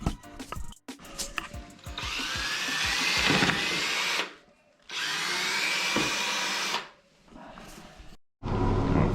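An electric drill drives a homemade power scrubber brush in loud, sustained whirring bursts with a rising pitch, broken by brief pauses, with scattered clatter and rubbing at the start.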